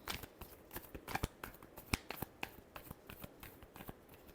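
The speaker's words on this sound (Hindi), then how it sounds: "Last shuffle." Tarot cards being shuffled, a quiet run of crisp riffling snaps and flicks in irregular quick bursts, close and soft with no talking.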